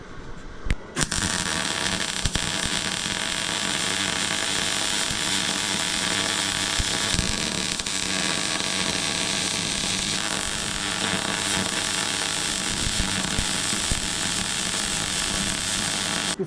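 Electric welding along a steel tube join, a continuous loud crackling buzz that starts after a short pause and holds steady with slight fluctuations to the end, close up with no talking.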